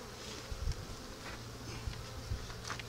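Honeybees buzz around an opened beehive during an inspection, a soft continuous droning hum with occasional louder passes of bees near the microphone and a few faint knocks, with no talking.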